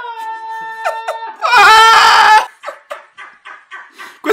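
A person with water in their mouth vocally imitates a car engine failing to start, giving a loud gurgling burst followed by a series of short sputtering, choking pulses in an uneven rhythm.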